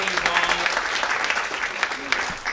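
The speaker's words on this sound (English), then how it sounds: "So a big round of applause for those two." An audience at a community business meeting gives a round of applause, thick continuous clapping from many people, fairly close and loud, with scattered voices mixed in.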